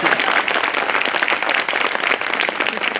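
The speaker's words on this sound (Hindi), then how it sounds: "जोरदार ताली मारो सबके लिए" A hall full of people applauds at an enrolment meeting, a dense, loud, sustained wash of clapping hands from a large audience with no pauses.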